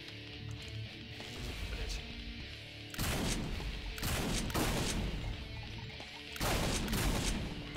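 Gunfire from a large gun in Doom: Project Brutality 3.0 on Armadosia's The Mad Corridor level, loud bursts of shooting that come in repeated waves with brief lulls, over a busy game soundtrack and background noise.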